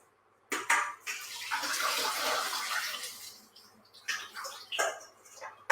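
Water pouring and splashing out of a pot of blanched spinach as it drains in a domestic kitchen, a steady rushing flow with a few sharper splashes toward the end.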